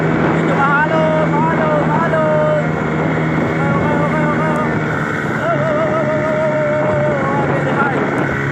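A speedboat driving on choppy ocean water, its engine a loud constant roar throughout, with a voice talking over it.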